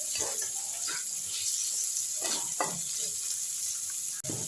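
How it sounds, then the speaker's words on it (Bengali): Onion fries with tempering spices in hot oil, giving a steady close sizzle and hiss with a few soft stirring scrapes. "পেঁয়াজটাও আমি একটু ভাজা ভাজা করে নিচ্ছি"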